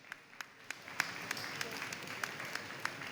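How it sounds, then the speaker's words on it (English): Crowd applause for two boxers after a bout, a steady wash of clapping with sharp individual claps standing out, fairly distant, under an announcer's voice. "Please, ladies and gentlemen, one more round of applause for both of these spectacular fighters."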